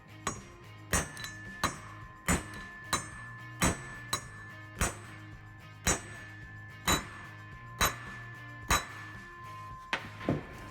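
A wheel bearing race is hammered into place with about sixteen sharp metallic strikes, each ringing briefly. The blows come at a steady, unhurried pace and are close and clear over a low background hum.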